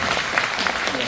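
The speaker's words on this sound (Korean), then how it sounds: "이쯤에서 박수 이제 마지막이라." Applause from the audience at a film talk event in Korea, a steady patter of clapping over about a second that sits beneath a speaking voice.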